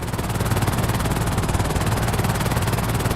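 A helicopter flies in GTA V, its rotor giving a steady, loud, rapidly pulsing thrum that continues without a break and with no one speaking.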